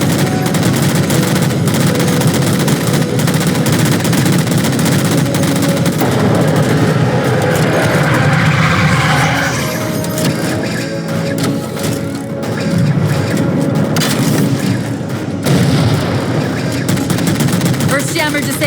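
In a Halo 4 battle, continuous heavy gunfire rattles while jammers are shot down, with bursts, crashes and booms packed densely together and voices breaking in at times.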